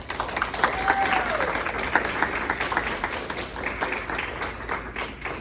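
An audience at a Nanbudo USA tournament applauds the Matachines dancers with a full, steady round of clapping, a short whistle early on, continuing evenly to the end.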